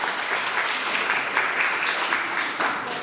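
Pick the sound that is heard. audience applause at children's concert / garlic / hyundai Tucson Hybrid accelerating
audience applause at children's concert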